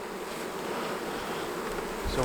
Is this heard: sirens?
no